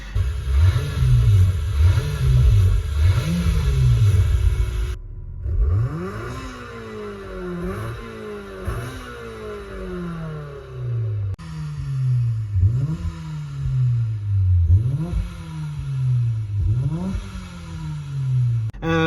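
A car engine in the Gran Turismo racing game revs repeatedly, its pitch climbing and dropping through gear changes in a loud, continuous run of rising sweeps, with no talking.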